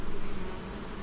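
Honey bees in a hive colony, a dense close buzzing hum filling the whole second, steady and loud with a slight pulsing at the start.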